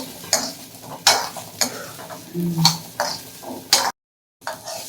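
Small shallots sauté in a pan for a Tamil onion kuzhambu, with loud spoon scrapes and clacks against the metal arriving in an irregular rhythm over a light sizzle, then a brief silence.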